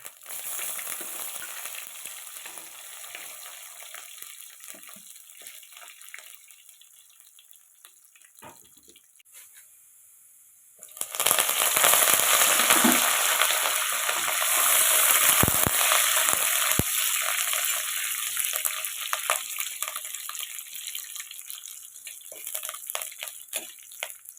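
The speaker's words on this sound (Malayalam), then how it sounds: "ഇഞ്ചി, വെളുത്തുള്ളി, കറിവേപ്പില ഇത്രയും ചേർത്ത് വഴറ്റിയെടുക്കുക" Ginger, garlic and curry leaves sautéing in a pan for a fish curry: a faint sizzle at first, then a sudden loud, hissing fry that holds steady with occasional spatula knocks.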